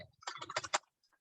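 A computer keyboard is typed on up close, a quick burst of several clattering keystrokes lasting under a second, followed by near silence and a couple of faint taps.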